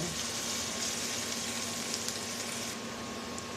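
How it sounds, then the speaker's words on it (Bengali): Chopped onion and green chili fry in hot oil, giving a steady, even sizzle with no pauses, moderately loud and close throughout. "পেঁয়াজটা আমি একটু লাল লাল করে ভেজে নেব"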